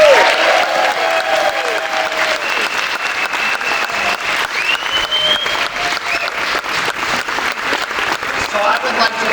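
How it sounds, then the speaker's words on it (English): Roaring applause from an evening foundation event audience honoring five guest speakers, loud dense clapping sustained throughout with crowd cheering mixed in. "can we please just give them a roar and a force of applause?"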